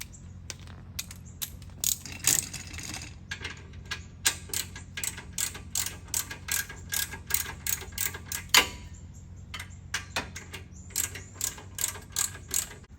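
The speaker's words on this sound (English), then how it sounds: "now I'm gonna take this off and just use the regular ratchet" A hand ratchet clicks in steady bursts while removing brake bolts during a brake job, its close, sharp pawl ticks repeating across the whole stretch with short pauses between strokes.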